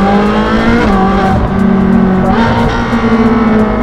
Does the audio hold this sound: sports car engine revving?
yes